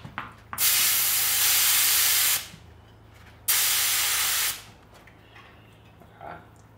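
Air hisses out of a downhill bike's tyre valve in two loud, close, steady bursts, each a second or two long with a short pause between.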